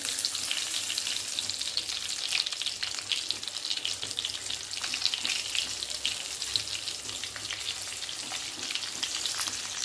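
Stuffed green chillies fry in oil in a wide kadhai, giving a dense, continuous sizzle that holds steady and close for the whole stretch, with no talking.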